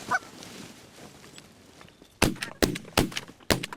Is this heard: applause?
no